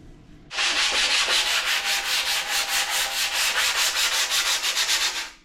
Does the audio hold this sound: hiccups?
no